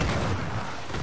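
Ship cannon fire in the pirate game Assassin's Creed IV Black Flag, a dense, loud, low booming rumble that fills the short moment without speech.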